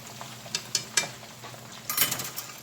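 Frozen fish frying in oil on a stove, stirred with a utensil: scattered scraping clinks and soft taps against the pan over a faint sizzle, with a busier cluster of scrapes near the end, close and fairly quiet.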